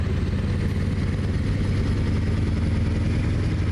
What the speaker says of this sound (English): I like this engine more than the Z-Mod Mack engines.